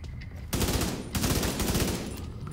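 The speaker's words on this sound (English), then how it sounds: "Burst fire, nice and accurate." Burst rifle fire from The Division 2 in a downtown hotel shootout, with two dense bursts of rapid shots. Each burst lasts about a second with a short gap between, loud and close, and no voices.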